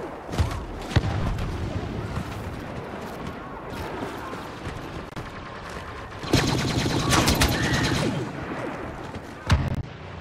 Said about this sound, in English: Let's go with the heavy blaster.